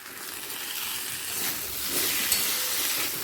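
Chopped capsicum, tomato and green chilli tumble into a pan of frying potatoes, setting off a steady close sizzle that swells slightly partway through, with light stirring scrapes.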